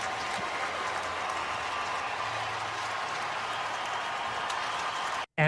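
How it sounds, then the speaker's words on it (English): At AT&T Stadium in Dallas, a football crowd applauds an injured player leaving the field: a broad, continuous wash of clapping and cheering from a large stadium audience, steady throughout before cutting off abruptly. "going out to a huge round of applause from the crowd at AT&T Stadium in Dallas"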